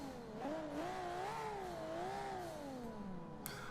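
A Nissan Skyline engine in the racing game Forza Motorsport 5 revs up and down in smooth rising and falling waves, a steady synthetic-sounding motor drone that holds for several seconds, close and continuous.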